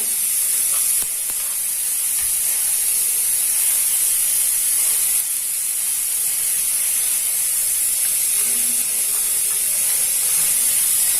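Garlic and vegetables sauté in a hot pan for vallarai soup, a steady, close sizzling hiss that carries on without a break.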